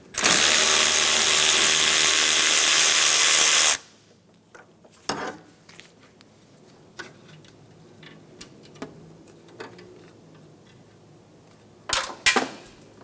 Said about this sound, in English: remove the condenser line bolt using a 10mm socket